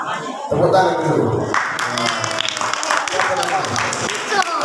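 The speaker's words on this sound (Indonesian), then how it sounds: "Tepuk tangan dulu." Audience applause at an Isra Mi'raj religious gathering, a dense crackle of clapping that starts abruptly and stays loud throughout, mixed with the noise of a lively crowd.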